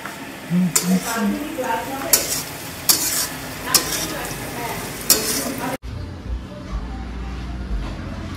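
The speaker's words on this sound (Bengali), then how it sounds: "ফ্রাইড রাইসের যে ভাজাগুলো সেগুলোই এখন এখানে ভাজা চলছে" Ingredients for fried rice sizzle and get stirred in a pan with clanks of a utensil, then the sound cuts abruptly to a quieter low rumble.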